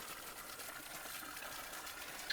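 Spring water pours out of a tunnel and falls steadily on farmland in an areca nut plantation in Malappuram, a faint, continuous gushing hiss with no break and no voices.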